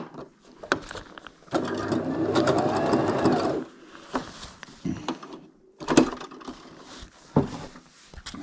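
A sewing machine stitches a loop onto a Eurohike Cairns 2 DLX dome tent: a steady mechanical whir for about two seconds, followed by shorter bursts of stitching and fabric handling with clicks and pauses.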